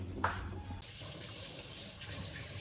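Bottle gourd leaves being rinsed in water, with running tap water and splashing that stays steady and fairly close throughout, opening with a brief louder splash.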